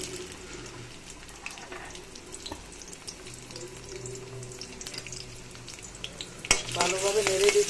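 Chopped onions fry in plenty of hot oil in a wok, a constant close crackling sizzle that swells near the end with a sharp clank and louder stirring.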